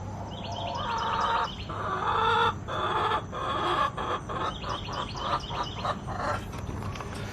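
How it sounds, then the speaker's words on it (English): Several chickens cluck and chatter close by, short repeated calls overlapping in a steady flock murmur with faint background hum. "My cousin across the street has chickens"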